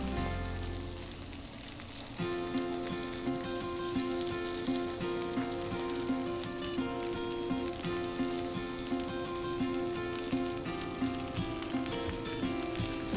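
Frozen burger patties fry on a hot griddle with a steady, close crackling sizzle that holds evenly throughout, over a faint background hum.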